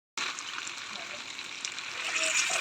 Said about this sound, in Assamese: এতিয়া মই মাংসখিনি ভাজি আছোঁ